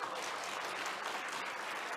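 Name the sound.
congregation applause in church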